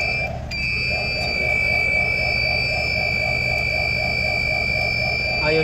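An engine room alarm on a ship with a MAN B&W 5S60ME-C8.2 engine, set off by a pressure transmitter fault, sounds as a steady high electronic tone with a pulsing warble, loud and continuous amid machinery hum.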